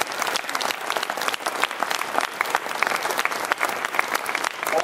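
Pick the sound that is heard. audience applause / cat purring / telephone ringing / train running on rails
audience applause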